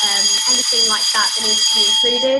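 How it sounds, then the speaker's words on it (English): An office fire alarm sounds continuously, a loud steady high-pitched electronic tone ringing throughout while a person keeps talking over it. "Sorry about that, that's our fire alarm"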